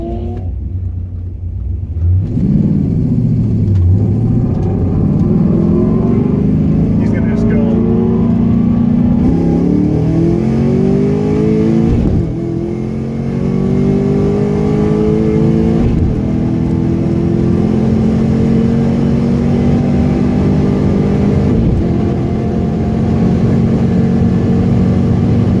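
A car with a new DuSpeed intake accelerates hard on a half-mile rolling start run at NoFlyZone Arizona, its engine note rising steadily through long pulls with brief dips at gear changes, loud and close throughout.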